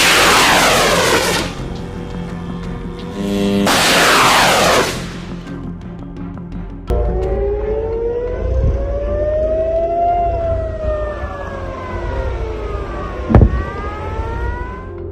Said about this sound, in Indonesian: Sirene Israel ini menjadi alarm darurat setiap kali Israel mendapat serangan dari musuh-musuhnya.